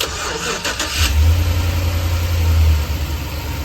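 A car engine cranks over briefly, then catches and runs at a steady idle, close and moderately loud with no talking.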